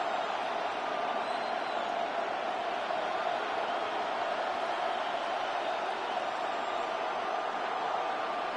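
A steady stadium crowd roar from an EA Sports NFL playoff video game, a Wild Card matchup between the Rams and Falcons, sustained and dense throughout without breaks or distinct cheers, moderately loud.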